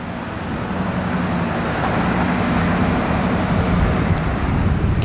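A 2000s hypercar passes by on the streets of Monaco as a steady, broad roar that swells slightly over a few seconds, heard from a short distance without voices.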